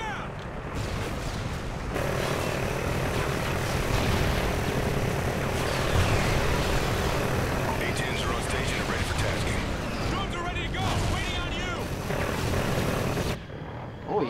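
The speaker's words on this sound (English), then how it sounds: "A-10 drones on route. ETA 30 seconds." A-10 drone aircraft from the video game Call of Duty: Ghosts roar in, a loud sustained jet and propeller drone with distant explosions and gunfire layered underneath, holding steady for about eleven seconds before cutting off.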